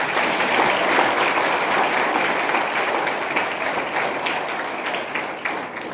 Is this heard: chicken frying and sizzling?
no